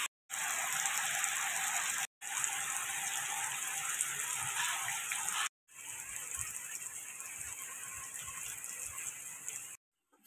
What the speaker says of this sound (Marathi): पाऊस थांबायचं नाव नाही घेत आहे